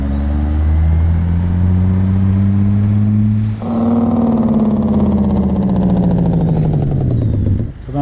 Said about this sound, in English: It's a good, powerful engine.